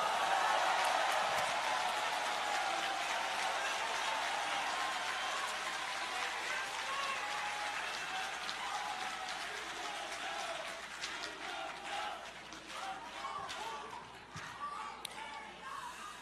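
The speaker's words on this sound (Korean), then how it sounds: "의원님들께 모두 박수를 쳐주십시오." Audience applause for lawmakers at a South Korean political rally, a dense wash of clapping that holds steady for the whole stretch, loud at first and thinning slightly near the end, with crowd noise mixed in.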